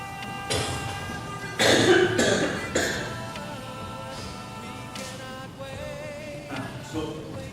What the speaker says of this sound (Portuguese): Minha tosse alérgica, de vez em quando ela se manifesta.